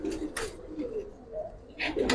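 Khaki pigeons, including a tiger-marked khaki bird, give soft low coos in a few short bursts, close by, with some brief higher rustling and background noise in between.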